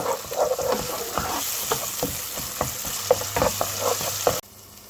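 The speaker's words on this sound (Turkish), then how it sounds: "Ve salçamızı güzel bir şekilde kavuruyoruz." Pepper paste and tomato paste frying with onions in a pot, a loud steady sizzle broken by rhythmic spoon scrapes and taps against the pan, cutting off abruptly near the end.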